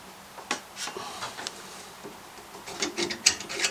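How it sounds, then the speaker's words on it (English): Small metal clicks, scrapes and rattles of a carburetor being pulled off an old Honda pressure washer engine after its throttle linkage rod is unhooked, close and fairly quiet, irregular bursts with no talking. "Get this carburetor off."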